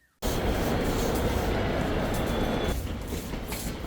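Underground Delhi Metro train running through a tunnel, a loud steady roar of wheels and rushing air that starts abruptly and holds without pause, easing slightly toward the end.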